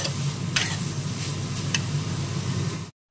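Papaya pieces sizzle steadily in a frying pan, with a couple of sharp utensil clicks over the hiss before it cuts off abruptly.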